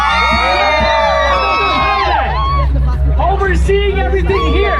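A large outdoor crowd at the Bicol Loco festival in the Philippines cheers and shouts loudly and continuously, voices overlapping with whoops and children's yells, while an amplified announcer talks over the din.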